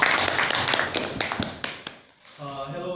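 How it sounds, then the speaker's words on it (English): Members of a Toastmasters club clap in a room, a brisk run of sharp close taps that trails off into quiet before a voice begins speaking. "So let's applaud"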